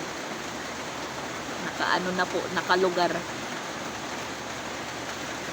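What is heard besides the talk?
continuous rain outside a house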